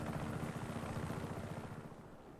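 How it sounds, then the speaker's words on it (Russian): A helicopter in the action game Just Cause 3 gives a steady low rotor chop with rapid rhythmic thumping and broad engine hiss, continuous and fairly close but not loud, with no speech. "Вертолет сейчас возьмем, полетим"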